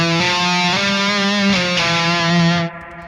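A heavily distorted electric guitar plays a slow, dark run of sustained Phrygian notes, loud and up close, cutting off abruptly near the end.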